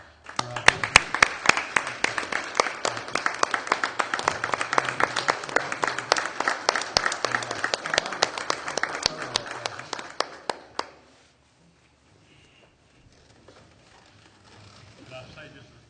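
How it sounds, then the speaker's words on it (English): A crowd at a city council meeting applauds steadily for about ten seconds, dense clapping that stops abruptly, followed by near silence and faint murmuring. "let's give him a big round of applause"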